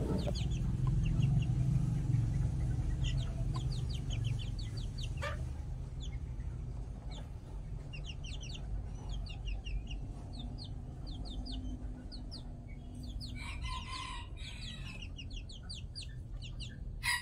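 Chabo and Kate contest ornamental chickens cluck repeatedly at a poultry farm in Brebes, with short bursts of calls from several birds over a steady low background hum, no voices.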